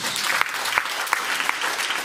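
A congregation applauding at a church worship service, a dense, steady clatter of many hands with a few sharper claps standing out.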